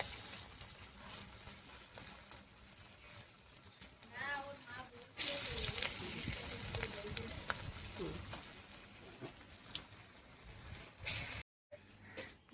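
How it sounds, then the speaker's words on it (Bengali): Coconut fritters fry in hot oil, a soft sizzle that grows louder and steadier midway through as more batter goes into the pan, with light clinks and a brief cut near the end. "বাদ বাকি নারকেলের বড়া এইভাবে ভেজে নেব"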